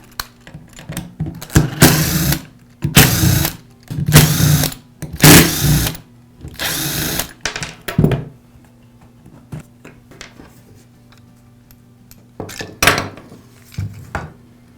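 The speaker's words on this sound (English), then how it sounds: "Next, I'll separate the two halves of the rear housing." The two plastic halves of a DeWALT angle grinder's rear housing are pried apart during a repair, heard as a series of loud, close bursts of scraping and rattling separated by short pauses, with a faint steady hum underneath.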